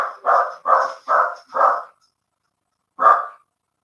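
Dogs barking nearby: four loud, evenly spaced barks in quick succession, a short pause, then one more bark, with no talk.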